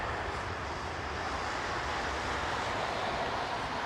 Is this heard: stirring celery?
no